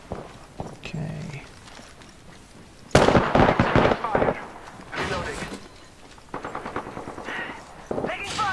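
Rapid automatic gunfire bursts in an online battle-royale shooter game, loud and dense with overlapping shots, sometimes clustered and sometimes spaced, with voices calling out between the volleys.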